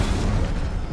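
An Incendio fire spell in the Hogwarts Legacy game erupts as a loud, dense, rumbling whoosh lasting about a second, with no talk over it.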